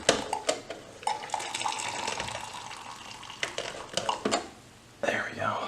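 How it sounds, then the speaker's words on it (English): Hot water pours into an opened MRE food pouch of stewed chicken in barley porridge, a close splashing trickle with crinkling pouch noises and a few faint clicks, quiet and alone. "Let's go ahead and put some hot water in."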